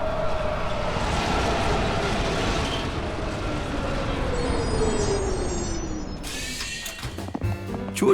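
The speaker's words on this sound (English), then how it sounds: "Oh, good, the train's here." Cartoon subway train pulling into the station, a steady rumbling roar with a falling tonal whine as it slows, then squealing brakes and clanks near the end, loud and close.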